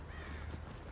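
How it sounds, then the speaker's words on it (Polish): Crows or ravens caw loudly in the video game The Division, with a harsh, raspy call filling a single second over a steady background of game ambience. "To są kruki."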